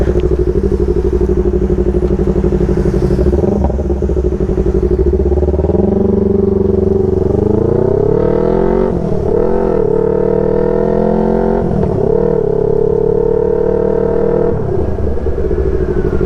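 A motorcycle with a newly changed tyre rides slowly along a wet road, its engine droning loud and close with gentle rises and dips in pitch as it eases on and off the throttle.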